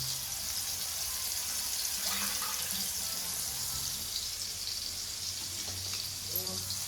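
Silver fish pieces frying in a pan of hot oil seasoned with asafoetida, a steady moderately loud sizzle and hiss that runs the whole time, with faint scattered clinks.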